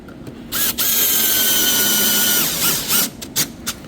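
A power drill whirs steadily for about two seconds, its pitch holding then dropping as it drives a screw during a kitchen remodel, followed by short bursts and clicks.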